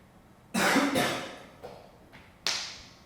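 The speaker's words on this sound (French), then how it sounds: "Sauf quelqu'un, là, qui tousse." Several coughs from a person in a theatre audience during a staged reading of poetry, sharp and moderately close, the first a heavy double cough followed by smaller ones and a final cough after a pause.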